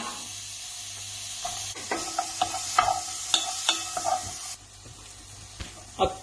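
Onions frying in oil in a pan while cooking Goan pork ribs, a soft continuous sizzle with intermittent clinks and scrapes of stirring, close by and moderately loud.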